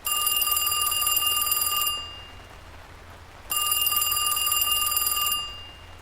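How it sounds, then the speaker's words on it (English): A telephone bell rings in two long bursts separated by a pause, bright and metallic, with faint background hiss and no talking. "her phone rang"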